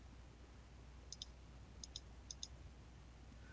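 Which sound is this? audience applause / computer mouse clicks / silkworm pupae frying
computer mouse clicks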